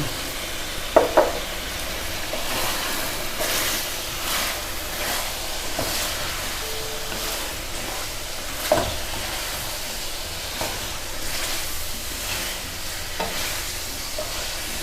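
Cumin, coriander and chili spices fry and get stirred in a pan: a continuous loud sizzle with repeated scraping stir strokes and occasional sharper clinks.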